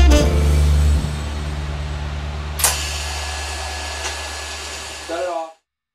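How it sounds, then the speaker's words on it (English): Arc welding around a fabricated heat riser pipe on a VW Baja or buggy exhaust: a loud, steady buzzing hiss close by, shifting tone partway through with a sharp crackle, then cutting off abruptly near the end. "I have the pipe tacked and I'm now going to complete the weld around this pipe."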